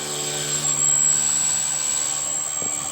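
An electric Blade 150S RC helicopter flies some distance away, giving a steady, even whine and hum that swells slightly and then holds, with no voices.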